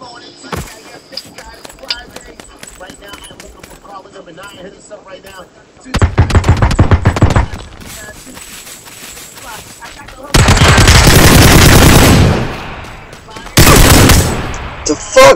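Gunfire in the battle royale game PUBG, with loud bursts of shots in several separate volleys, the heaviest and longest near the end, under intermittent talk.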